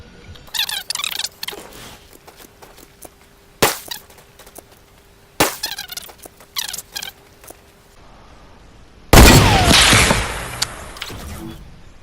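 Sharp, isolated gunshot cracks ring out in a video game, a few separate snaps spaced seconds apart, then a louder sustained blast and rumble near the end, likely a noscope sniper shot aimed at a tree.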